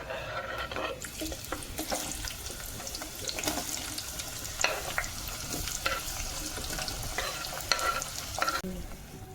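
Ingredients for paneer biryani fry in hot oil in a home kitchen, a steady close sizzle broken by scattered clinks and stirring scrapes, with a brief quieter stretch at the start and end.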